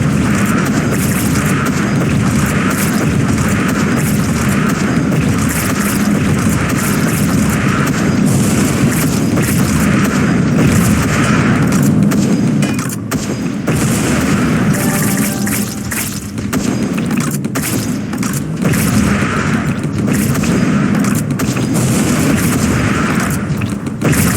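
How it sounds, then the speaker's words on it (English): Bomb thrower weapon in the video game Wall World firing, with loud, dense explosions booming continuously and rumbling throughout, briefly dipping midway before resuming. "I need to do a swap to my bomb thrower."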